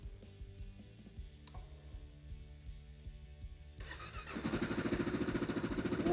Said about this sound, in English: That Delkevic header sounds amazing with that stay in tune muffler